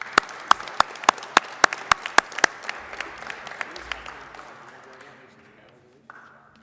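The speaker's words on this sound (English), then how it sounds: "Another round of applause for our class." Audience applause at a high school academy commencement ceremony, sharp individual claps ringing out loudly over a softer crowd bed, thinning and fading away toward the end.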